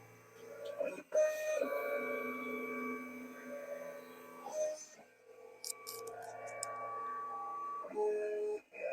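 A vinyl cutter slices race car lettering, giving off a steady mechanical whir with shifting tones and short bursts of stepping movement that carry on for several seconds under a quiet room hum.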